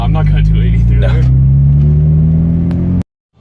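Mazda NC Miata accelerating hard, its engine note climbing steadily in a loud close drone under talk before cutting off abruptly near the end.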